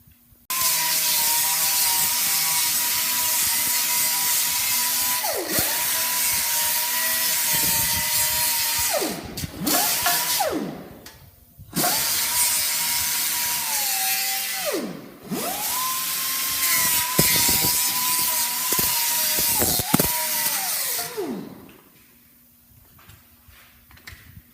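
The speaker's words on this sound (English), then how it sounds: "grind around the main tube so you can get off all of it, the excess paint" A power grinder removes excess paint from a steel main tube on a JD 2700 7-24 flex-till, running loud and steady in long passes with brief drops in pitch as it bites and pauses between them.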